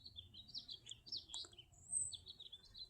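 Lesser goldfinches singing in a garden, a quick string of thin, high twittering notes and chirps close by, soft against a quiet low background hum.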